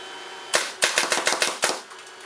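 Azodin Blitz reball paintball marker held Uzi style firing a quick string of about seven sharp shots, the first alone and the rest in a rapid burst, close and loud with no talk.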